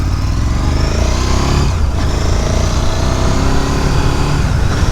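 A 2022 Ducati Scrambler 1100 rumbles steadily while being ridden, its loud continuous engine note holding near and constant with a brief dip in the middle.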